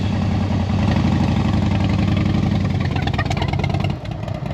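A motorbike engine idling close by with a steady low, throbbing rumble that holds for several seconds, its tone wavering slightly near the end, with no voices over it.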